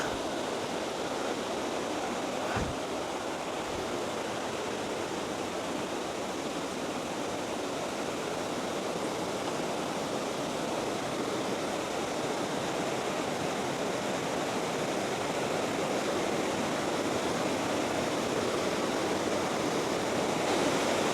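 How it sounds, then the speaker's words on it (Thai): Mae Wa waterfall, about 12 m high, runs over sloping rock slabs into a pool in a Lampang national park, giving a steady, dense rushing roar that holds throughout with no talk. "น้ำตกชั้นที่สอง ตาดต้นไทรยังมีความสูงประมาณ 12 เมตร เป็นน้ำตกที่ไหลผ่านแผ่นหินแล้วก็ลาดเอียงยาว สู่แอ่งน้ำ"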